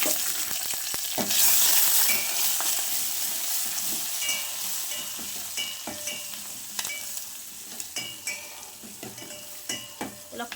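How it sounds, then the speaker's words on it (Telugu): Mustard seeds, cumin, curry leaves, dried red chillies and garlic crackle and sizzle in hot oil for a tempering, a loud steady hiss broken by sharp pops and spoon clinks against the pan. "ఇలా పోపు పెట్టుకుంటామండి"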